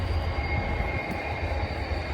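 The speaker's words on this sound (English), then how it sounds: "You can hear the train in the background." A train rumbles past nearby with a steady low roar and a faint high whine, continuous and fairly loud, on a very windy day.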